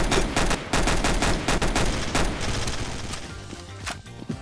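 Rapid gunfire from Trouble in Terrorist Town, a burst of loud, close shots and bangs packed densely together for several seconds, tapering slightly toward the end.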